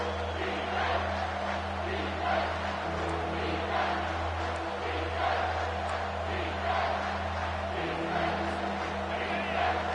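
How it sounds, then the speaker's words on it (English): Steady roar of a large stadium crowd in College Football 25 as the defense holds in the red zone on third down, a dense continuous swell of cheering and noise with a low hum underneath, loud and unbroken throughout. "the crowd coming to life here, trying to help this defense down in the red zone"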